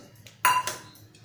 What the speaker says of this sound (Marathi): इथे आपण एक कुकर घेतलेला आहे, त्यामध्ये बटाटे घालूया